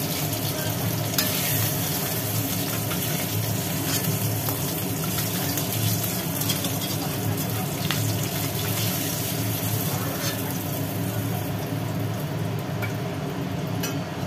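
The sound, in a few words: hilsa fish pieces frying and being stirred in oil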